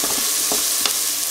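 Onion browning in a hot pan for a veal carbonnade, a steady bright sizzle with a few soft stirring scrapes, close and loud with no talking.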